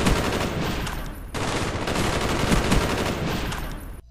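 Sustained full-auto gunfire from Call of Duty Black Ops, a dense continuous rattle with a persistent high ringing tone over it, loud and close, breaking off briefly once before resuming until the end.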